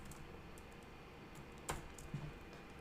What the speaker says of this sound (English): I can select it by typing it.